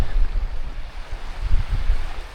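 Ocean surf beyond sand dunes at Los Osos, California, is heard as a continuous low roar, mixed with gusty wind buffeting the microphone and no talking.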